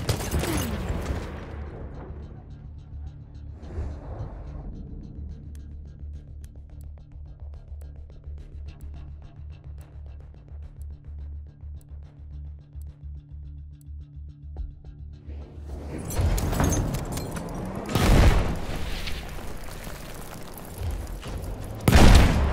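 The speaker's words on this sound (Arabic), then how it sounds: "رشاش! إنه للعدو!" Enemy machine gun fire in Battlefield 1 comes as rapid, evenly spaced bursts amid booming impacts and explosions, fairly close. A steady low engine-like drone fills the middle stretch before heavier blasts return near the end.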